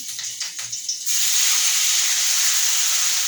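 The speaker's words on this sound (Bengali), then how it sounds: "এই টমেটো কুচি একটু লাল লাল হয়ে ভাজতে থাকবে।" Chopped tomatoes dropped into hot oil in a pan burst into a loud, steady hiss of frying that holds evenly after a few soft clinks at the start.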